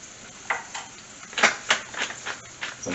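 Garlic and spinach cooking in a pan for salmon: a faint sizzle under clinks and scrapes of a utensil stirring against the pan, several short knocks spread across the stretch, close and fairly quiet.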